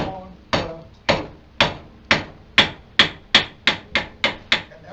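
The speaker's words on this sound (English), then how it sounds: "Take my hammer and hit that nail on the hook." Steady hammer blows on a nail, about eleven sharp strikes evenly paced and speeding up slightly toward the end, close and clear.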